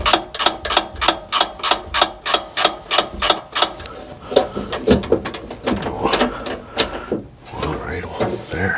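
A ratchet wrench tightens bolts on the engine mount of a 1963 Chevy C10 with a big block 348, a fast run of close, regular clicking strokes, then slower uneven ratcheting and clanks as a voice talks over it.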